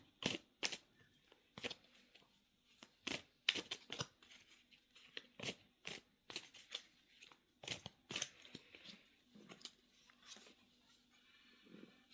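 Cards sticking together in cold weather are handled and shuffled, giving a series of close, sharp riffling snaps and flicks in irregular bursts over a quiet background, with no voices.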